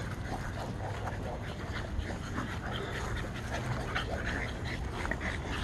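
Several exotic bully puppies pant and whimper close by while playing, a steady busy mix of breathy panting and small whines with faint background noise and no talk.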